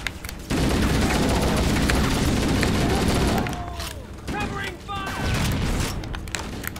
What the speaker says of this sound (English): Their shields doing damage to everyone around them when they explode.